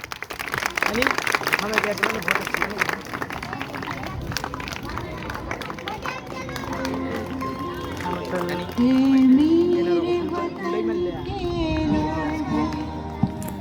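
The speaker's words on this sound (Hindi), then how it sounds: "तालियां कम ना करें।" Sustained clapping from a crowd at a school Independence Day program, continuous and fairly loud, with an announcer's voice and crowd noise mixed in.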